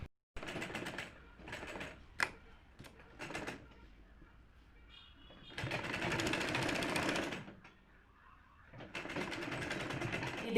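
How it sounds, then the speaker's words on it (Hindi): Domestic sewing machine stitching a seam on a girl's flared frock, running in short bursts early on and then two longer steady runs, close and clear, with brief pauses and small clicks between them. "तो चलिए इसमें सिलाई लगा के फिटिंग कर लेते हैं"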